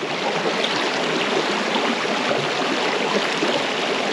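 A cold mountain river in a Serbian national park, flowing as a steady, dense rush of water heard up close, loud and unbroken, with no voices.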